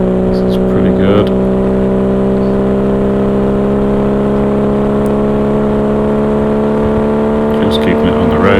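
A Triumph TR6 at full speed on a Mallory Park sprint, recorded from inside the car: a loud, steady engine drone holds at high revs for the whole stretch.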